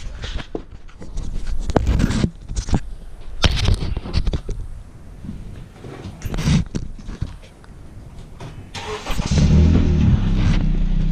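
A car's engine runs and revs in uneven bursts as it is backed out, loud and close, with clunks and shifts along the way and a heavier, steady drone near the end.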